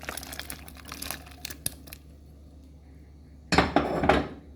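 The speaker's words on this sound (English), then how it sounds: "toss my ackee right into my pot" Ackee drops into a cooking pot already seasoned with salt and a few pimento berries, for Jamaican corn pork and ackee. A few light clinks come first, then a near, loud rustling tumble closes the moment, with no voices.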